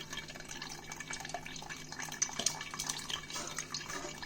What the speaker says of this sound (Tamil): இந்த தண்ணி இருக்குல்ல இதை வந்து இது போல் ஜல்லடை வச்சு நல்லா வடித்து எடுத்துக்கலாம்